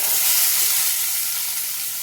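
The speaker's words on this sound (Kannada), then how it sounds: "ಇವಾಗ ಇದನ್ನು ಫ್ರೈ ಮಾಡ್ಕೊಂಡು ಬಿಡೋಣ." Onion frying in oil in a kadai makes a loud, steady sizzling hiss that holds evenly throughout, close and alone with no voices.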